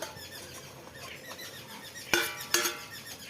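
A lid is set onto a cooking pot of spinach ghonto with potato and eggplant, giving two sharp metallic clanks close together near the end after quiet kitchen background.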